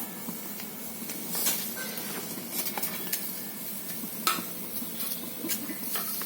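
Green chillies roasting on a hot griddle give off a soft, steady sizzle, with occasional light clinks and stirring scrapes over a faint crackle; no one speaks.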